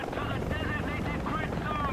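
An AH-56A helicopter flies in War Thunder, a steady dense rotor and engine roar with wind rushing past, loud and continuous throughout.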